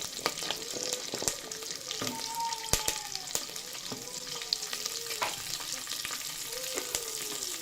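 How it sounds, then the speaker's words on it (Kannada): Small onions fry in oil with mustard seeds and curry leaves, giving a soft, steady sizzle broken by sharp clicks and scrapes of stirring and a few faint squeaks. "ಈರುಳ್ಳಿ ಚೆನ್ನಾಗಿ ಫ್ರೈ ಆಗಲಿ"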